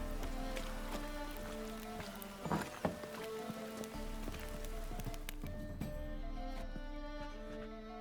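Steady rain patters across the whole stretch in The Witcher 3: Wild Hunt, with a few sharper drips and knocks around the middle and a low background hum underneath.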